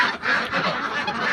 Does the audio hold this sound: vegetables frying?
no